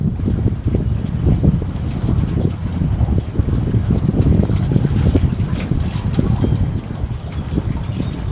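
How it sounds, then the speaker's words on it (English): Strong wind roars and buffets constantly on an Outer Banks beach while surf fishing, a rough low rumble with gusty bursts that never lets up. "you can probably hear it, it's super, super windy"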